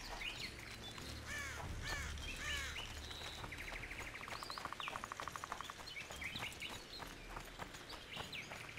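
Crows caw repeatedly in the video game The Witcher 2, their harsh calls coming in scattered bursts over a dense bed of game ambience and other chirping birds, fairly close and prominent.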